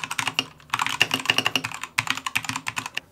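A mechanical keyboard fitted with switches being typed on, with steady rapid clacky keystrokes up close and a brief pause partway through, loud and clear with no voices.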